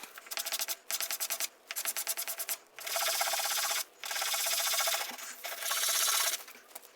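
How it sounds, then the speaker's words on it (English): Hardened epoxy clay sculpture legs being scraped and ground to fit, with rhythmic rasping strokes in quick bursts, then longer steady grinding passes, close and alone. "Fitting these legs is basically just a simple matter of scraping and grinding."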